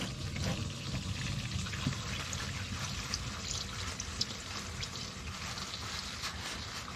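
Used Amsoil Signature Series 5W-30 engine oil, hot after 4.5k miles, drains steadily from the drain plug, a continuous close pouring trickle with no talk.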